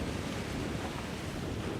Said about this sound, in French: un bateau qui passe bien évidemment dans la mer plate, mais également sur une mer un peu plus formée comme ici par exemple.